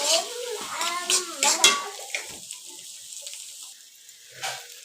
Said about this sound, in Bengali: তো পেঁয়াজটাকে ভালো করে ভেজে নিব।